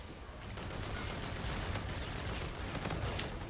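Rapid gunfire from the VPR Wraith in Infinite Warfare, a dense, steady stream of shots running loud and unbroken through the whole stretch amid game action.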